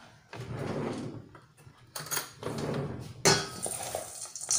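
Dry trail mix seeds and nuts being stirred and poured in a salad bowl, bursts of rattling, clattering and scraping in several uneven waves with brief quieter gaps.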